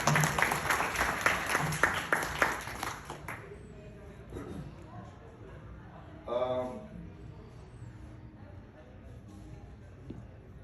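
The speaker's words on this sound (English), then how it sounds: "so round of applause for them." Audience at a Canadian campaign event claps and cheers for about three seconds, then the clapping dies away to quiet room noise with a brief burst of talk.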